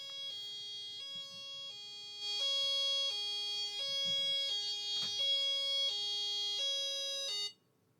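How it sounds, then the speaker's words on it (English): An electronic music toy plays a synthetic siren, a clean two-tone wail alternating steadily about once a second, fairly loud and close, then cutting off abruptly near the end. "We get a siren."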